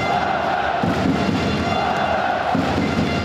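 About six thousand hockey fans cheer together inside Lada-Arena at a KHL game, a steady loud crowd roar with thumping bursts and a shrill tone rising over it.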